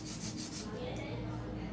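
A flat 100/100 nail file rubs up and down on a long coffin-shaped nail, producing a close, continuous scratchy sanding rasp with a few quick strokes at the start, then a steady abrasive drone.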